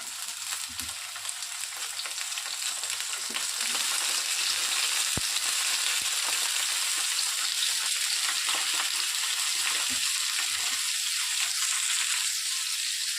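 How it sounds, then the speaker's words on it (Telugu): Brinjal pieces for an Andhra-style curry sizzle and crackle steadily in hot oil, a dense, continuous frying hiss with occasional stirring clicks and bumps. "ఆయిల్ కాస్త హీట్ ఎక్కాక మనం కట్ చేసి పెట్టుకున్నటువంటి ఈ వంకాయ ముక్కల్ని ఇందులోనికి వేసేసుకోవాలి"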